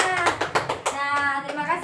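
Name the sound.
children clapping in a classroom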